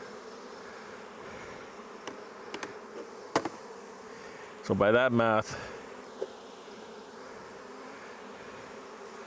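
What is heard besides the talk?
honey bees buzzing in hive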